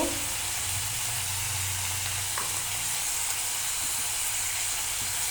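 Spice masala with a little water and salt sizzling as it is sautéed in a pan, a steady close hiss and crackle running throughout, with a faint low hum beneath and no talking.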